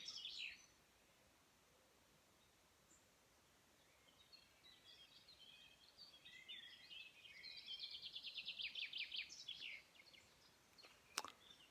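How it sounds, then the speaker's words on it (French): Birds chirp and trill faintly in the distance in spring, with a brief, more lively burst of song building in the middle of an otherwise quiet outdoor scene. "les oiseaux sont bien excités"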